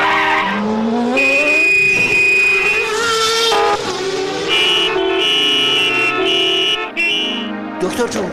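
A loud, brash car horn blares repeatedly among clashing musical tones, sustained honks stacked over dense background noise for several seconds.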